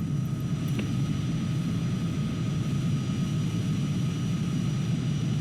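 Steady, continuous jet engine drone of an RQ-4 Global Hawk in Microsoft Flight Simulator, an even, unbroken hum with no speech.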